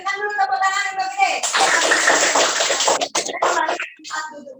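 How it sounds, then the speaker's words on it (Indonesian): A primary school class claps for a classmate, a burst of close, bright hand clapping that stops and starts in short bursts, with children's voices around it. "Berikan dulu tepuk tangan untuk Gede."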